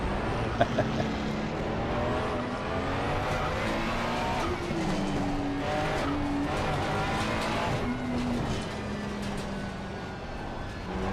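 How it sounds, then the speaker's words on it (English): Race car engine in a racing video game at Brands Hatch, braked hard to warm the tires: a continuous, steady engine drone with shifting pitch and occasional tire squeal throughout. "Just try and heat up the tires with the brakes."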